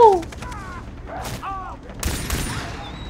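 Rapid bursts of video game gunfire shooting a dog, with sharp electronic tones and effects, loud and close, mixed with game sounds.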